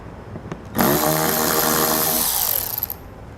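A power driver with a T30 Torx bit spins out a wheel well liner screw on a 2018 Alfa Romeo, a loud close whine that starts abruptly and runs steadily for about two seconds before cutting off.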